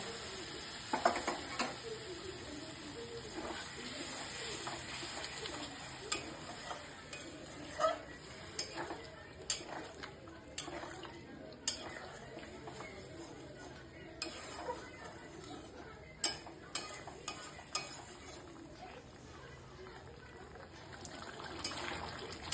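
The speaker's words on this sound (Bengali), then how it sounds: "এবার আমি অল্প করে জল দিয়ে দেবো অল্প জল দেবো কারণ আলু তো সেদ্ধই আছে" Small potatoes for aloo dum, cooked down with spices in a pan, sizzle quietly after a little water is added, with soft bubbling and scattered clicks and scrapes of a utensil against the pan.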